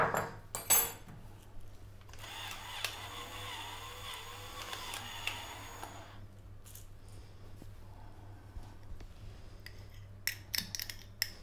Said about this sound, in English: Grab a fork, little whisk